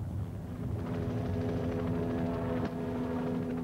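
A helicopter drones steadily with a throbbing rotor hum and engine whine, moderately distant and continuous.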